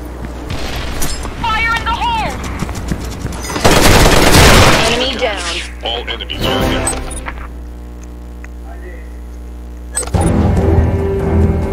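Video game combat with a loud grenade blast and bursts of gunfire, the explosion swelling into a dense roar midway, then a lull with a steady hum before more shots; game voices and chatter come and go throughout.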